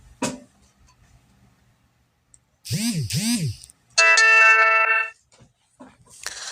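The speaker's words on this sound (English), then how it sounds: "Sorry about the buzz on my phone." A phone gives a notification sound: a pair of quick electronic chirps followed by a sustained, bright tonal chime lasting about a second, with talking before and after.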